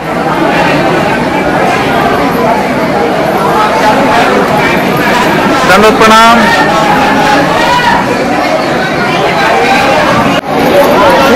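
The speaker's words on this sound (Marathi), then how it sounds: "मोठी गर्दी रानाईचा या ठिकाणी दिसत आहे." A large crowd of devotees at Ranaiche temple during a prasad offering in the rain, a steady dense murmur of many voices with a speaker talking over it nearby.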